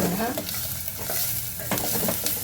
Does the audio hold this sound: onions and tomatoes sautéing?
yes